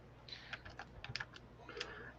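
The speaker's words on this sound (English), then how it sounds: "yeah, I was typing that out" Typing on a computer keyboard: a quiet run of irregular key clicks, bunched into short bursts with brief pauses between them.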